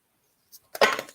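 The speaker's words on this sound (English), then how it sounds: "So I'm just shuffling the deck." A deck of cards is shuffled by hand: a short, crisp riffle burst of flicking cards that sounds close by, preceded by a faint tap, with the room otherwise quiet.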